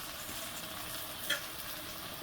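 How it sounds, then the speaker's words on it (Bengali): Onions frying in oil in a pan with a little salt, the start of a beli fish curry, give a steady, even sizzle with a faint stir partway through. "তেল পেঁয়াজ দিচ্ছি, এখন একটু লবণ দিয়ে দেবো, ব্রাউন হওয়া পর্যন্ত।"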